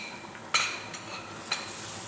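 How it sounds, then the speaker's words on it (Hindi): Dried red chillies, half a spoon of turmeric, ground red chilli and salt being stirred in a pan for dhaba-style daal mash, with two sharp spoon scrapes against the metal over a faint, quiet sizzle. "अभी हम मिक्स करते हैं।"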